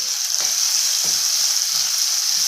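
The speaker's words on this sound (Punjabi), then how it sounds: "ਇਹ ਵੀ ਚੰਗੀ ਤਰ੍ਹਾਂ ਆਪਾਂ ਮਿਕਸ ਕਰ ਦਿਆਂਗੇ ਤਾਂ ਕਿ ਜਿਹੜੇ ਆਪਣੇ ਪਿਆਜ਼ ਨੇ ਟਮਾਟਰ ਨੇ ਉਹ ਚੰਗੀ ਤਰ੍ਹਾਂ ਭੁੱਜ ਜਾਣ" Onions and tomatoes with salt, garam masala, red chilli and turmeric frying in a pan for baingan bharta, a loud continuous sizzle with a few soft stirring scrapes.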